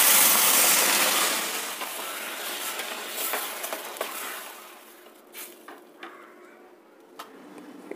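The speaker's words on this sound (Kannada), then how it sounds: "ಸ್ವಲ್ಪ ನೀರು ಹಾಕ್ತಾಯಿದ್ದೀನಿ." Water is poured into a cooking pan of ground masala, giving a loud hissing rush that gradually fades to quieter bubbling with a few clinks.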